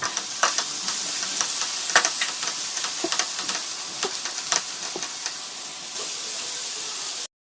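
Onions and tomatoes with salt sizzle and fry in a pan while being stirred, giving a steady hiss punctuated by frequent scraping and clattering stirs, close and fairly loud.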